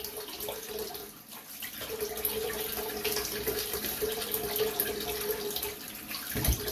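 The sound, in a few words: water running from a tap to wet head before shaving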